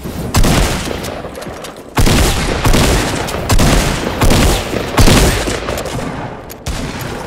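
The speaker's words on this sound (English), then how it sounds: "Shots from southwest." Loud bursts of gunfire from the Fortnite battle royale video game, in a duos match, come in several heavy volleys with sharp onsets a second or two apart, close and dominant throughout.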